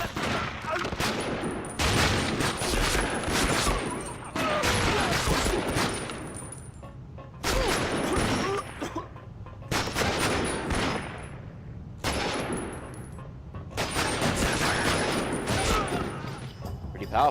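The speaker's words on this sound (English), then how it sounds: "We got Japanese Bren gun" A Japanese Bren light machine gun, itself based on a Czech design, fires in loud, close bursts of a couple of seconds each, separated by short pauses, in Medal of Honor: Rising Sun on hard difficulty.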